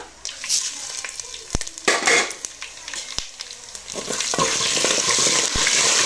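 Urad dal, mustard, coriander and fenugreek seeds fry in hot oil for a tamarind curry, giving a steady crackling sizzle with sharp pops and spoon scrapes against the pan, growing denser and louder toward the end.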